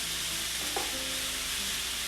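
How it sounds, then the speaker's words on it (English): Chopped onion fries over medium heat in a pan with potatoes for a Spanish tortilla, giving a steady soft sizzle with a brief scrape of stirring partway through, close and even, with no voices. "once you put onion in, you have to stir it fairly constantly"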